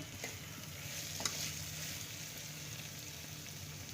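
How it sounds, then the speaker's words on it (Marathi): Green mung beans, already fried in oil until the oil separates, sizzle and hiss steadily in a pan as hot water goes in, with a close, continuous crackle and one or two sharper spits. "हिरवे मूग देखील मी छान त्याला तेल सुटेपर्यंत परतवून घेतलेले आहे आता यात घालून घ्यायचे आहे गरम पाणी"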